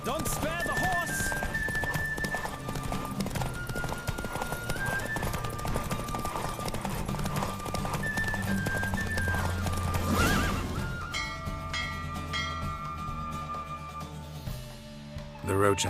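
Galloping horse hooves thunder through a Witcher 3 horse race, with whinnies and neighs over a dense game soundtrack, and a voice calling out partway through.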